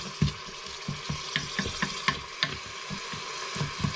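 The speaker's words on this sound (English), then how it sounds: "Let that fry for a minute or two." Frozen chopped onion frying in the hot insert of an Instant Pot, a soft steady sizzle broken by regular scraping and stirring knocks from a utensil, fairly quiet and close.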